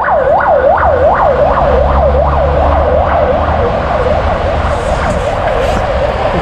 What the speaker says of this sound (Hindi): इतना ज़ोरदार धमाका करके गई वो एम्बुलेंस